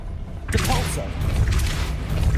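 A Depulso spell cast in a Harry Potter video game, a sudden booming whoosh that bursts in and stays loud and rumbling, with voices mixed in.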